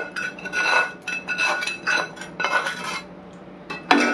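Chicken fried rice being stirred and tossed in a pan, a metal spoon scraping and clinking against the pan in quick irregular bursts, close and fairly quiet, with no talking.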